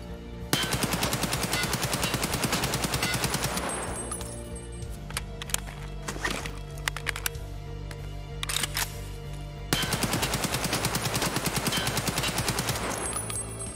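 An AK-103 fires full auto in the Escape From Tarkov hideout, with two long, loud, rapid bursts separated by a quieter stretch of clicking weapon handling and mechanical sounds.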